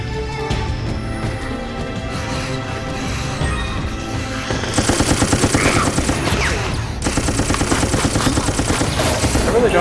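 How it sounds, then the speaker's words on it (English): Militia rifle fire in the video game Resident Evil Raccoon City, with rapid bursts of shots rattling over a dense game soundtrack, growing louder and more continuous in the second half. "Oh, hey, a militia rifle. Let's try this."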